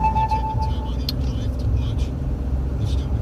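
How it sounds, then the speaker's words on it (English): A Ford EcoBoost pickup with a 3.31 rear end, towing 6,000 lbs, accelerates gently in traffic: a steady low engine drone with road rumble, heard from inside the cab. "just wanted to show you kind of a normal acceleration"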